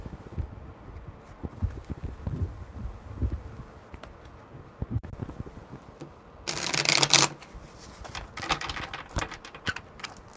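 A deck of tarot cards is shuffled in one brisk riffling burst that lasts under a second, standing out against quiet rustling and handling noise before and after it.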